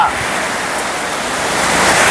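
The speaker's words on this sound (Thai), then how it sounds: "ฝนตกครับเพื่อน ๆ ฝนตกยังหนักเลย ฝนตกหนัก" Heavy rain pouring down steadily outdoors at a plant nursery, a dense continuous hiss that swells slightly louder toward the end, with no voices.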